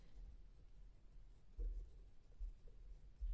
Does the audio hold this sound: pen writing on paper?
yes